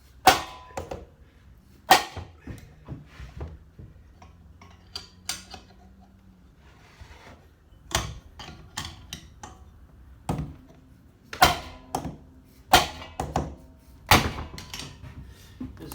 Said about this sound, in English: Give it a couple whacks with the old hammer, should pop right off.